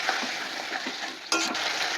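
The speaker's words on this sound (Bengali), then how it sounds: "আরও একটু কষাবো" Fish head curry with potatoes being stir-fried in a wok, a continuous moderate sizzle with faint scraping, then a sudden louder burst of frying partway through.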